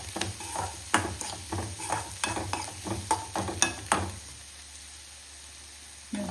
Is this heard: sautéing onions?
yes